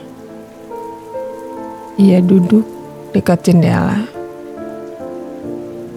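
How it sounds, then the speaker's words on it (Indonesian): Steady rain falls in the background throughout, a soft continuous hiss beneath someone narrating over quiet music. "Di luar, hujan turun lagi."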